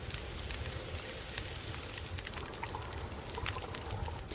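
Water trickling and pouring over a crackling fire in The Long Dark, a steady broadband wash with small pops throughout, no talking.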